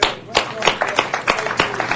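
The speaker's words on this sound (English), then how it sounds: "So I'd ask that we give them another round of applause." Applause from an audience at a city council meeting, loud and close, with sharp clap bursts and a voice speaking over it.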